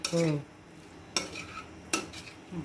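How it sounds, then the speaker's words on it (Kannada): Ginger for chicken pickle is stirred and fried in a pan. Three sharp spoon scrapes against the pan stand out over a faint background sizzle. "ಇವಾಗ ಶುಂಠಿ ಫುಲ್ ಫ್ರೈ ಆಗೋವರೆಗೂ ಬಾಡಿಸ್ಕೋಬೇಕು"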